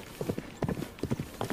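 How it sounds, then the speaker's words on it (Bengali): Hooves of a horse pulling a carriage, used as a story sound effect, clip-clop in quick, even groups of beats, close and fairly quiet, with no voices. "ঘোড়ার গাড়ি ছুটে চলছে।"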